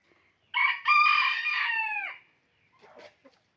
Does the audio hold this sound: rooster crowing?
yes